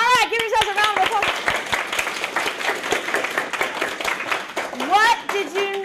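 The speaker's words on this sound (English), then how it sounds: "give yourselves a round of applause" Seventh-grade students in a drama class clap for themselves, a ragged burst of nearby hand claps while voices chatter and sing out over the top, sometimes rising above the clapping.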